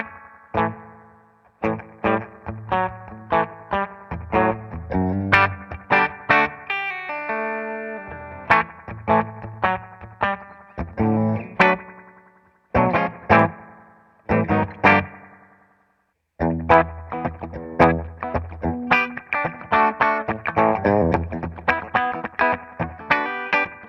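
A 1978 Ibanez Iceman electric guitar runs through a 1976 Roland DC-50 Digital Chorus, playing ringing chords and picked phrases in bursts separated by short pauses, with no voice.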